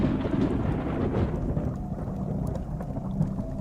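Thunder rolls low and heavy through a dark storm while rain falls steadily, a dense rumbling wash that eases slightly midway, with scattered drops ticking through it.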